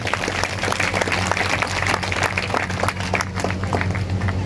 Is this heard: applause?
yes